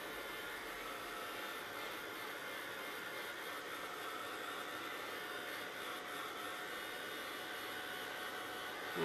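Continuous whooshing roar of a handheld heat dryer blowing air to dry an altered craft jigsaw piece, steady and close from start to finish with no voices.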